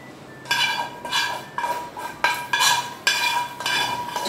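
Golden rabdi mixture being poured and scraped back into a metal pan, with a series of regular clanking and scraping strokes about every half second, close and fairly loud over a faint steady background hum.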